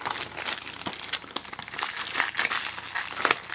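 Plastic wrapping is peeled and crinkled off a Transformers: The Last Knight Blu-ray/DVD case, a close, busy stream of crackling crinkles and small tearing bursts with no talk.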